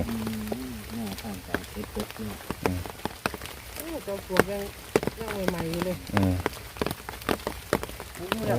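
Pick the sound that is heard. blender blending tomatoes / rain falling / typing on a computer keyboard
rain falling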